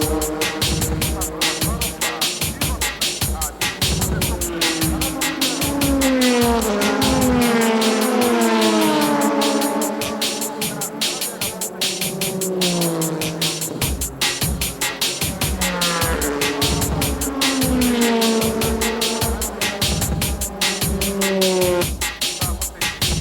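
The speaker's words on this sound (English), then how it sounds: "The GT300 first place Ferrari comes into pit." A Ferrari GT300 race car pulls into the pit lane during a 2004 JGTC race, its engine note rising and falling steadily and loudly throughout, with brief tyre and revving sounds and no speech.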